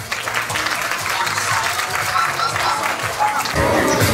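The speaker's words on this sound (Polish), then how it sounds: "Zwycięzcy kategorii Creative, wielkie brawa." Sustained applause from an audience at a dog grooming show award ceremony, honouring category winners; dense, steady clapping throughout with faint voices underneath.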